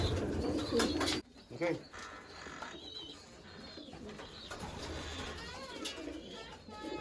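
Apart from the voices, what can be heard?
racing pigeons cooing in loft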